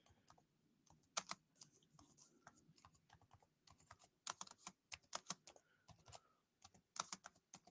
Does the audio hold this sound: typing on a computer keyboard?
yes